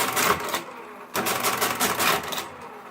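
A Marchant mechanical calculator runs a multiplication, giving two bursts of rapid, loud mechanical clattering and ratcheting with a brief pause between them.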